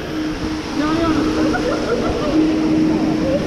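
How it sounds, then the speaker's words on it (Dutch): Waterfall on a water ride at Walibi Belgium, a steady loud rushing and splashing of water heard close, with people talking and calling out over it. "Ah, de waterval."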